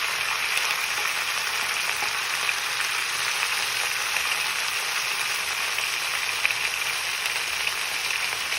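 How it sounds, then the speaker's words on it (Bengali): Ingredients lightly frying in a pan before Malabar spinach goes in, giving a continuous, even sizzle close up, with no talk over it. "এবার এগুলো একসঙ্গে সব হালকা ভেজে নিতে হবে।"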